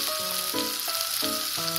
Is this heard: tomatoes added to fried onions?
yes